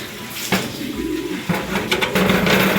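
Pigeons coo in a loft during rain, soft repeated low calls layered over a steady wash of rain and splashing water.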